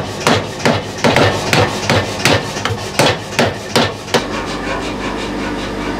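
A forging hammer pounds hot metal in a smithy with about a dozen loud, evenly spaced blows, roughly three per second, each a sharp ringing clang. The strikes stop abruptly and a steady low machine hum follows.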